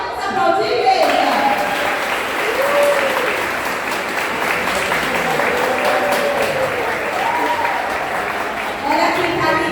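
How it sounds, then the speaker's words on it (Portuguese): A church congregation applauds together at a Christmas cantata, steady dense clapping filling the room for about nine seconds, with a voice speaking briefly over it. "Vamos aplaudir, igreja."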